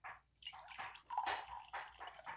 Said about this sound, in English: I'm going to get a cup and pour some water in.